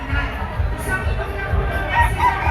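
A white Kelso gamefowl rooster, straight-combed and white-legged, crows briefly at a gamefowl show, with crowd babble and someone talking in the background.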